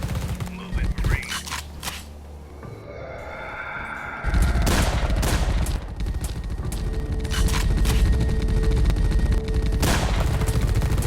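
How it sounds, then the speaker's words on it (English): Gunfire in the video game The Red Solstice: sustained bursts of rapid automatic fire with heavier booming shots, loud and close, continuing for several seconds while voices talk faintly. "Why is he shooting the wall?"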